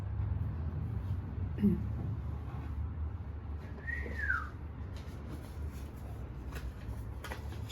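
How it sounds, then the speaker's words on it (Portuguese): A single short whistled phrase, one quick rising-then-falling glide, sounds once near the middle over a steady low background hum, with no talking. "Assobiozinho no final."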